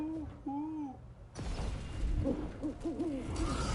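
An owl hoots in the Dragon Age: The Veilguard video game, a few wavering calls in a quiet stretch, then game noise and clatter rise beneath more hoots.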